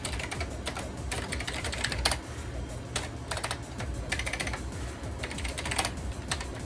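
Rapid, irregular keystrokes clatter on a computer keyboard at a Linux terminal, a close, continuous run of typing with brief pauses and a few heavier key presses.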